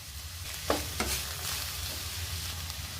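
Cabbage, beans, carrot and capsicum stir-frying in a pan for Schezwan fried rice, a steady low sizzle with two brief scraping stirs near the start, no talking.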